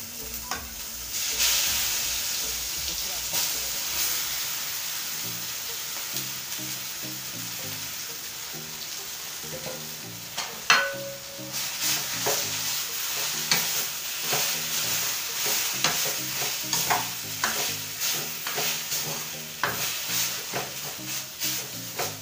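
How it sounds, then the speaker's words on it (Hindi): Fenugreek seeds sizzling and crackling in hot oil, a steady hiss with scattered pops and occasional stirring scrapes, close and continuous. "तेल गरम हो चुका है, इसमें डालेंगे हम मेथी।"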